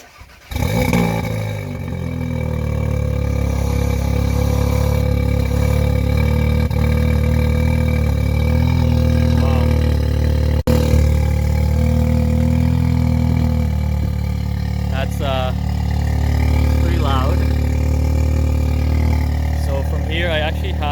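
A tuned Audi S3 with a Unitronic Stage 2 tune, downpipe and resonator delete cranks and fires up, then settles into a loud, steady idle close by, with someone talking over the running engine.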